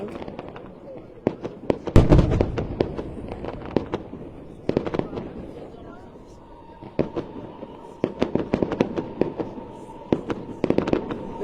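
A Bastille Day fireworks display on July 14 in Saumur in the Loire Valley crackles and pops in bursts of rapid, distant bangs and sharp cracks, with quieter gaps between volleys and occasional talk from onlookers nearby.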